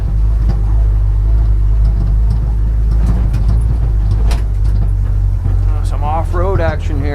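1957 Power Wagon truck driving off-road: a loud, low engine drone with rattles and knocks from the bouncing truck, and a voice calling out near the end.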